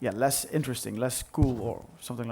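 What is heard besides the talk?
No everyday noises stand out.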